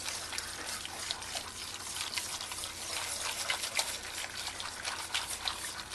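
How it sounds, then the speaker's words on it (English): A whisk stirs cheese sauce in a pan, making a continuous wet, sloshing scrape with quick rhythmic swishes. It sounds close and moderately soft, with no talking. "I'm going to get a whisk, and I'm going to whisk this cheese sauce in here."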